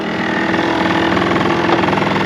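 An early-model Honda Live Dio ZX scooter idling close by, a steady buzzing two-stroke putter with a fast regular pulse and faint rattling overtones, loud and continuous throughout.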